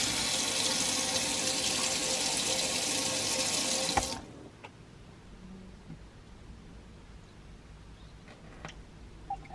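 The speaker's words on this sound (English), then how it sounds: "So we just put a couple of litres of water down there. That'll freshen the pipes up." Water poured into a motorhome sink rushes loudly down the drain pipes for about four seconds, then cuts off, leaving faint trickles and small drips in a quiet interior.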